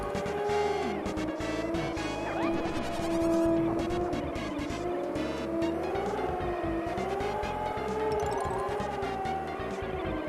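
Buzzy electronic engine tones from retro Super Nintendo racing game cars hum and waver continuously, pitch sliding up and down as vehicles accelerate, with occasional squealing bursts.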